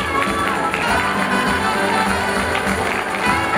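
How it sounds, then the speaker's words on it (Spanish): A crowd at a school sports opening ceremony in Trujillo, its applause and cheering mixed with music, held steady and dense throughout. "El aplauso"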